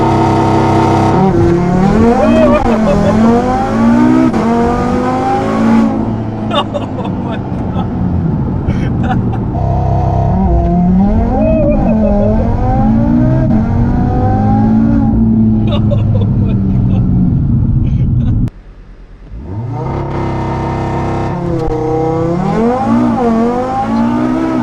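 A 900 hp Audi TT RS launches hard in a loud run of rising, shifting engine howls with tire squeal, then briefly drops out before the engine roars back. A voice is heard partway through.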